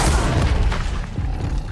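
A single booming blast from the Confringo explosion spell in Hogwarts Legacy, a dense low rumble that swells and fades over under two seconds.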